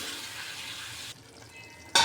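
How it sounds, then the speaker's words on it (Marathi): Shepu (dill greens) bhaji cooking in a pan with a little water gives a steady, close hiss that drops quieter midway, then a brief louder sizzling burst at the end. "भाजीत आपण थोडेसे पाणी टाकून घेणार आहोत"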